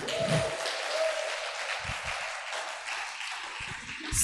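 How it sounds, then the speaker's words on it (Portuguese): Steady applause from a church congregation fills the whole stretch, dense and continuous with no voices on top. "Dê um forte aplauso ao Senhor."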